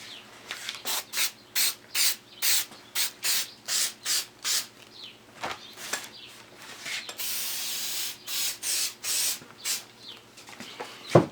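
Adhesive spray coating both surfaces of a homemade custom sun visor, heard as a run of short rhythmic hissing bursts followed by one longer continuous spray, close and fairly loud with no talking.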